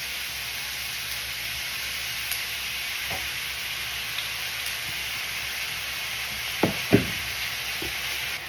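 Oyster sauce hits a hot frying pan, a constant bright sizzle with a few sharp clinks of a utensil near the end, no talking.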